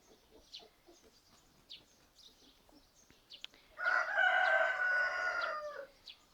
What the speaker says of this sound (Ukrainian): петухи співають